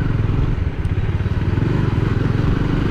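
Bajaj Dominar 400 motorcycle with a modified seat being ridden, a loud, close, rhythmic engine thrum with steady low pulsing throughout and some rattling, no speech.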